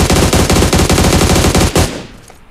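A loud rapid burst of automatic gunfire in PUBG Mobile hits an object until it explodes, close and harsh. The burst cuts off sharply and trails away into a fading tail.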